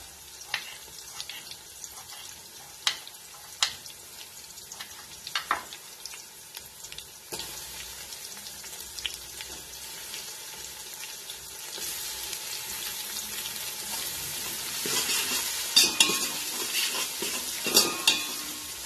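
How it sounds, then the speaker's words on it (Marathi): Finely chopped tomato fries with half-cooked onion in a pan, a continuous sizzle swelling louder over time, punctuated by sharp spatula scrapes and knocks of stirring. "आता हे चांगलं भाजायचं"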